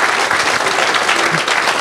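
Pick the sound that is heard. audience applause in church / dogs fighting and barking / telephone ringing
audience applause in church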